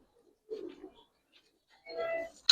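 Silver Bagha pigeons give two short, soft coos close by in a quiet setting, separated by a brief pause and ending with a sharp click.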